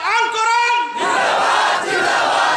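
A large crowd at a religious political rally in Satkhira roars a loud, sustained collective shout in answer to a Takbir call, rising abruptly after a brief lead-in and holding dense and close for the rest.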